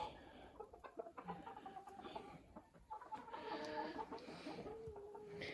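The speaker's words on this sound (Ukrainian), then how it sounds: "Ось о, курочка американа." An Americana hen clucks in short, soft calls with a few longer squawks, heard faintly from nearby among other poultry in a quiet farmyard.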